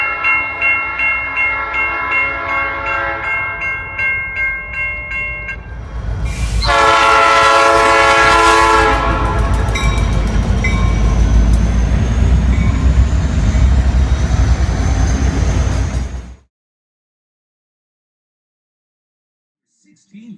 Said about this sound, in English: Train is getting ready to take off.